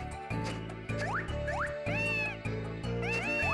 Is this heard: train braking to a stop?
no